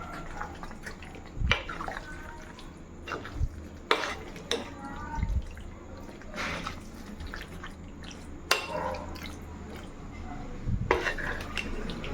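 Chicken being stirred with masala in a pan for Chettinad chicken gravy, with irregular wet clinks and scrapes of a spoon against metal and soft squelches, fairly close, spaced out across the stretch.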